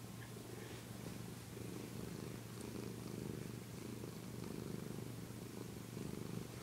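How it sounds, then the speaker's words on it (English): A house cat purring close up at bedtime, a low continuous rhythmic rumble that swells and eases with each breath, steady and quiet, with no voices. "He's purring."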